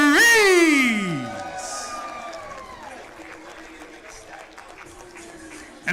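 Crowd cheers and applause for the winning fighter after a submission by triangle at a live MMA championship event at the Hard Rock Hotel in San Diego, a loud swell at first that settles into a steady, more distant roar, partly under an announcer's voice.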